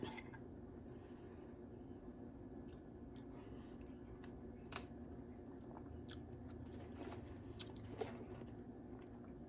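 Close, quiet chewing and soft crunching of creamy pumpkin soup with crispy bacon and shallots, with small wet mouth clicks and bites spread through the whole stretch and a low background hum underneath.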